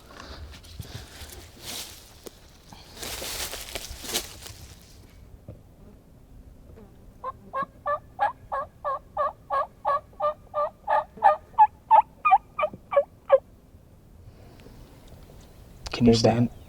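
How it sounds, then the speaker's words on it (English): A wild turkey gobbling on Iowa public land during a hunt, a long rapid run of distinct clucking gobble pulses at mid distance after a stretch of quiet outdoor talk, with a brief louder call at the very end. "That one's been gobbling behind us."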